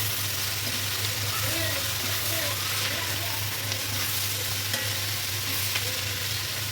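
Sliced onions with ground black pepper sizzle steadily in a hot pan for fried rice and chilli chicken, with a spatula scraping and stirring through them and a person talking faintly in the background.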